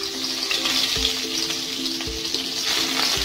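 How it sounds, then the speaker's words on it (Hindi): Butter melts in hot oil in a kadhai over a high gas flame, a continuous close sizzle and crackle with a low hum underneath and a few soft bumps. "और इसे हम अच्छे से मेल्ट कर लेंगे। बटर हमारा अच्छे से मेल्ट हो चुका है।"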